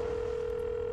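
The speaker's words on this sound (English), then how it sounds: "It's ringing." A telephone line in the video game Leisure Suit Larry Reloaded gives a single steady, unbroken electronic tone at moderate level, held for the whole second with no voices over it.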